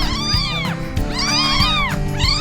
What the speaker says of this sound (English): Here are the baby kittens. They're about half a day old.